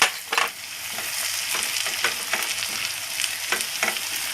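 Chopped tomatoes sizzle and crackle loudly in a hot pan of chicken dak bungalow curry, with a steady frying hiss and occasional scraping stirs close by.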